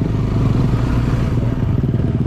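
A motorcycle ridden along a jungle road gives a continuous, loud, low engine rumble with a rattling pulse and rough wind noise, close up throughout, with no voices.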